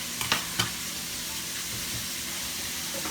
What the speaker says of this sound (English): You can hear that cooking away.